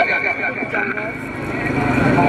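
A horse at a tent pegging competition, with a whinny and hoofbeats heard beneath an announcer talking over a loudspeaker amid crowd noise.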